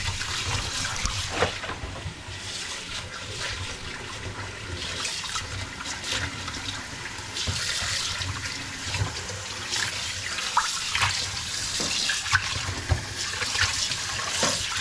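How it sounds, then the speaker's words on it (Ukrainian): Salted roach fish rinsed under running tap water, a steady hiss and splash of flowing water that carries on throughout at moderate level with no talking. "В проточній воді можна отак промити трошки,"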